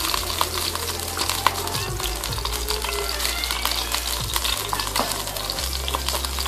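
Ghee tempering sizzling in a pan for palada payasam, a busy steady crackle with stirring noises and a low droning hum beneath, no talking.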